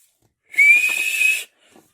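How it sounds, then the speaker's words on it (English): One shrill whistle blast from a train guard lasting nearly a second, loud and clear, then quiet. "The guard blew his whistle."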